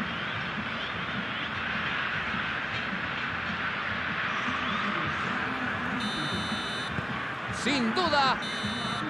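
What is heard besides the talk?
final whistle at end of football match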